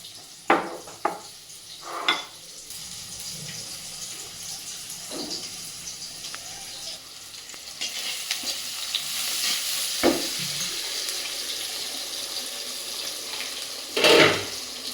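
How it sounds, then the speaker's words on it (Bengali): Eggs frying in a pan with a little oil and onions, a spatula stirring and scraping now and then in sharp knocks over a steady, moderate sizzle, with no one talking. "সুন্দরভাবে ভাজা হয়ে গেছে ডিমগুলা।"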